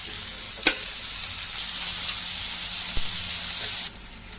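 Chopped onions sizzle steadily in oil in a pan on the stove, a loud, even hiss with a few faint clicks, which cuts off just before the end.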